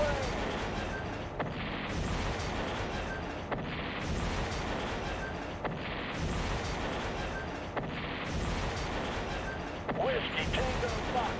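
Air strike bombs in a video game, a series of heavy booming explosions rolling through in repeated bursts at moderate loudness, with dense rumble between blasts.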